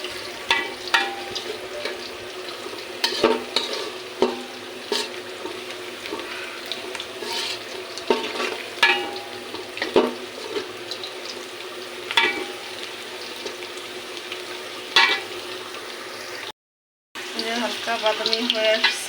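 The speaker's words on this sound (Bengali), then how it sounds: "লবঙ্গ এগুলো দিয়ে একটু ভেজে নিচ্ছি" Whole cloves frying in hot oil in a pot for Bengali khichuri on a rainy day, a steady soft sizzle with scattered clicks and stirring taps, continuous at moderate level with a brief gap near the end.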